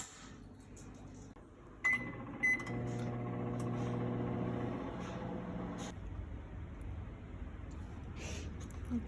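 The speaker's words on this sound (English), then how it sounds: "So this is going back in the microwave." A microwave oven hums steadily after a couple of door clicks and beeps, warming steel-cut oats with a low, even drone that fades near the end under faint background noise.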